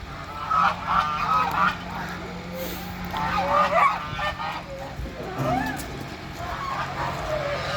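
Farm geese honk loudly and repeatedly close by in Adaköy, Çaycuma, calling in noisy overlapping bursts, with faint background voices.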